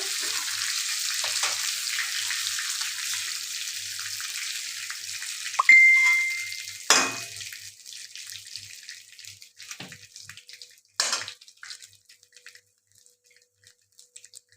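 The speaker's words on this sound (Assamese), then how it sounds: "আৰু এয়া দেখিছে মাছ ধুনীয়াকৈ ফ্ৰাই হৈ গৈছে" Fish fries in a pan for a village recipe, a hissing sizzle that holds steady and then fades, broken by a few clinks and knocks.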